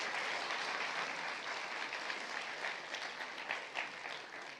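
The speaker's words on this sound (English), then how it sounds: "So a big round of applause for that." An audience claps together at the opening ceremony of an eye-health event in Nepal, a sustained, even round of applause that tapers slightly toward the end, heard fairly distant and without speech.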